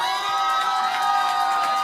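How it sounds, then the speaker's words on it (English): A live audience cheers and whoops at a marriage proposal, a bright, close swell of excited voices and shrieks sustained across the brief moment. "As the crowd cheered on Jackson's Real Housewives references"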